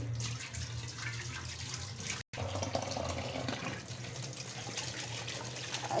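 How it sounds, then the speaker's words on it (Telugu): Tap water runs steadily while raw prawns are rinsed, a close, continuous splashing flow that pauses briefly near the middle. No voices are heard. "ఇలాగా రెండు మూడు సార్లు కడుక్కోవాలి"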